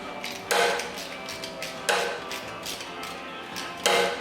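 Loosening the lower starter bolt on a Datsun 280ZX during clutch replacement, with sharp metallic ratchet clicks and three louder clanks spaced about a second and a half apart, close and fairly quiet.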